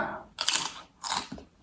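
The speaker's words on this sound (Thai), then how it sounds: "เคี้ยวก่อน" Two loud, close crunching bites into a crisp, spicy Thai papaya-style salad with kohlrabi, squid and shrimp, each bite a short burst of crisp crackling chewing.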